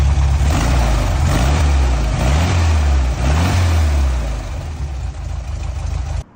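The 1600 engine of a 1973 Volkswagen Brasilia, fed by a single-barrel 30mm Solex carburetor, revs loudly and close by, rising and falling several times before settling lower and cutting off at the end.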